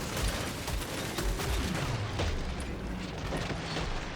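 Dense, continuous explosive rumble and crackle of gunfire and blasts fill the scene in the co-op shooter Killing Floor 3 during a Hell on Earth match against a Fleshpound, where grenades are being thrown. The roar is loud and sustained with no gaps.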